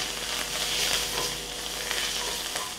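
Coriander leaves drop into hot tempering oil for a Telugu pachi pulusu, giving a steady close sizzle and crackle that holds for a few seconds with no one talking.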